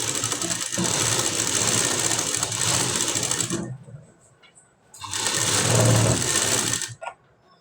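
An electric sewing machine stitching piping onto a blouse neckline runs in two loud, steady whirring bursts separated by a quiet pause, with a short final stitch at the end.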